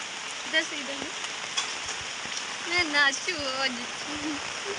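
Heavy rain pours down on an umbrella and the ground outdoors, a constant close hiss with scattered drop patter, while people speak intermittently beneath it.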